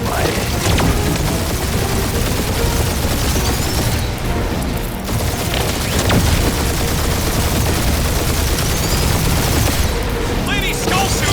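A sustained gunfire barrage in the Guardians of the Galaxy game during the Captain Glory boss fight, a loud continuous clatter of shots and booms that runs the whole time without letup.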